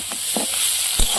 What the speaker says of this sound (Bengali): ব্রোকলিটা ভাজা হয়ে গেছে, এবার তুলে নেবো।